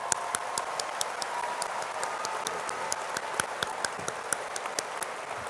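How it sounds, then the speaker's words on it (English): A university audience applauds at a ceremony, sparse individual claps standing out over a soft, steady wash of clapping heard at a moderate distance. "And now a round of applause."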